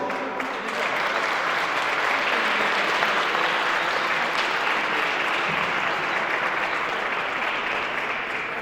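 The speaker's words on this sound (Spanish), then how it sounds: "Lo recibimos con un aplauso." An audience applauds to welcome an academic speaker presenting a talk on healers, a sustained, even round of clapping from a crowd indoors, heard alone without speech.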